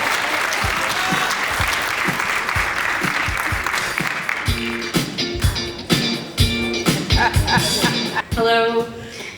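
A crowd applauds steadily and loudly, the clapping thinning into scattered claps with some shuffling toward the end.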